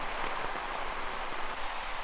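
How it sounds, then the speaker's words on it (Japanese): Torrential rain pours at a heavy rainfall simulation facility, a dense, steady roar of water drumming on the ground and road with no let-up. "雨音で周囲の音はかき消され、道路の端は冠水した状態に。"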